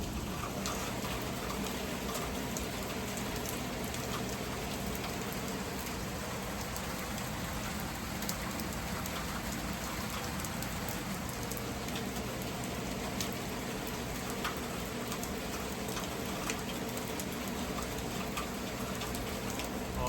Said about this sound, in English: This is what we get: a flashing sky and some rain.